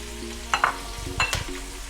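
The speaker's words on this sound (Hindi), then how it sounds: "प्याजों को मैं गोल्डन ब्राउन कर लूंगी।" Chopped onions frying in oil for mutton biryani, a soft sizzle broken by a few short scraping stirs and clinks of a spatula, close and fairly quiet, with no talking.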